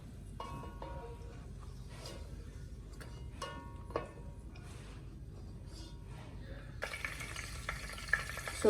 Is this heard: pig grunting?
no